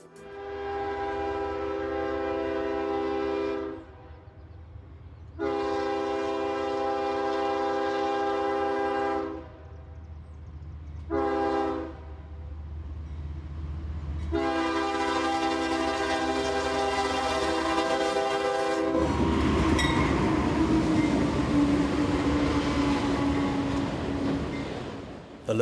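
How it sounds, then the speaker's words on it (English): A westbound CSX freight of 90 autoracks led by an ES40DC and a grey C40-8W sounds repeated long horn blasts, then roars past with rumbling wheels and rolling cars close by. "The locos at the head of this westbound rake of 90 autoracks are an ES40DC and a grey C40-8W."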